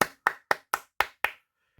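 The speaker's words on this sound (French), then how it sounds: "suivi de quelques applaudissements" A few hand claps, six crisp, evenly spaced and close, then quiet.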